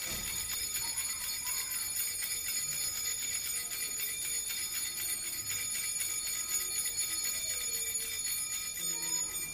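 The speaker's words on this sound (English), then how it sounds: "the server rings the bells joyfully and keeps ringing until the priest lowers the host" Altar bells rung by a server at the elevation during Mass, a continuous faint shimmering jingle of many small bells sustained throughout, with no voices.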